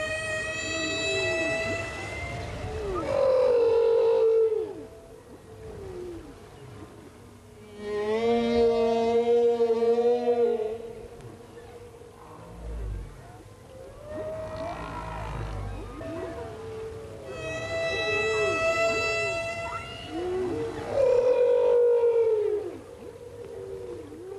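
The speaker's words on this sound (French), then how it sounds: "Le chant des baleines peut s'entendre à plusieurs kilomètres." Whale song underwater: long, rising and falling moans and tonal calls sweep in several drawn-out phrases, carrying clearly with no voices present.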